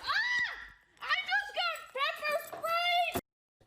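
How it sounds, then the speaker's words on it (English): A woman in Washington, D.C., screams after being pepper sprayed: three or four high, strained wails in quick succession, each lasting under a second, ending abruptly. "That's the sound of a D.C. woman screaming after she says her apartment building's manager pepper sprayed her"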